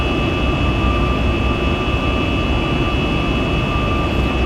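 Boeing 737 MAX 8 jet departing in the X-Plane 12 flight simulator, a loud steady engine roar with constant high whine tones, continuous and close throughout with no talking.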